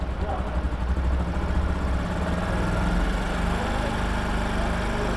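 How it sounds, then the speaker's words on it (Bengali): A motorcycle engine with a snapped throttle cable idles after its idle screw is tightened, giving a steady, close, low rumble that holds fairly even throughout rather than climbing noticeably. "টাইট করলে আপনার বাইকের আরপিএম বাড়বে।"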